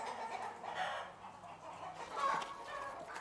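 Chickens clucking inside a henhouse with a deep-litter floor, a steady scatter of overlapping clucks and calls at close range, with no voices present.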